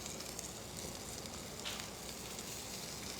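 Onion and potatoes frying in mustard oil in a pan, a steady, soft hiss and sizzle heard close up and alone, unchanging throughout.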